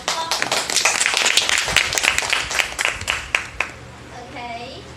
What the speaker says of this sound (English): So let's give Michelle another round of applause.